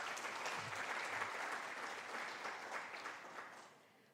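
Audience applause at a library and information science symposium honoring a professor's scholarship, a dense, steady clapping from a full room that holds for several seconds and then tapers off toward the end.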